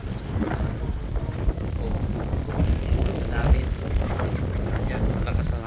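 Steady wind buffeting the microphone with low rumbling gusts at Sampaguita Beach, over a faint background of moving water, continuous throughout.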